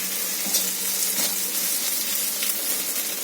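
Masala with chopped chillies frying in a pan, a steady bright hiss of sizzling oil, close and even throughout with a few faint stirring knocks.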